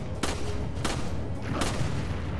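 Gunfire in the video game Resident Evil 5: three separate heavy shots ring out about half a second to a second apart over a dense, rumbling background.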